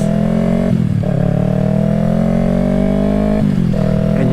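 A 2020 Yamaha R3 motorcycle fitted with an M4 exhaust, a loud, close engine drone climbing steadily in pitch as it accelerates, with two brief dips where it shifts gears.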